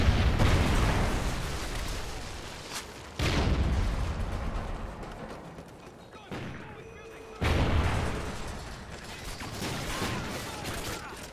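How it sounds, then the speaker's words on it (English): Rocket explosions in a video game roar out as three heavy blasts a few seconds apart, each a loud low-rumbling boom that trails off into debris and rumble. "rocket inbound."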